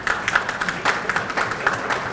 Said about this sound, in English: I notice the men are clapping very hard.